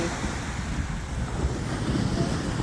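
Surf rolling onto Jomtien beach with steady wind buffeting the microphone, a continuous low roar of gentle waves close by, no voices.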